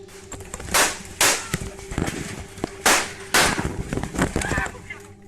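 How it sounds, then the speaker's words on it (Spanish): Several sharp gunshots crack at irregular intervals over a noisy background with indistinct voices, heard in a recording of a live stream. "sonando así los primeros disparos que desataron el caos en la transmisión"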